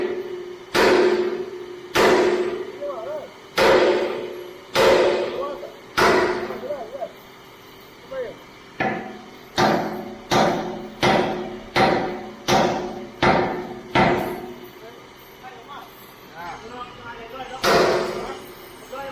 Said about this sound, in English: Hammer it in, boy.